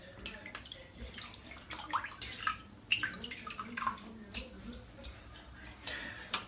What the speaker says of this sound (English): So let's wet the brush.